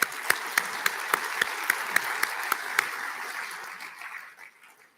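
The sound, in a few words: audience applause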